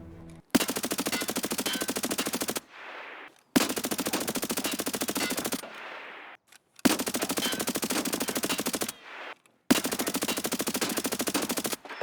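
Four long bursts of rapid automatic AS Val rifle fire in Escape from Tarkov, each lasting a couple of seconds and separated by short pauses, loud and close.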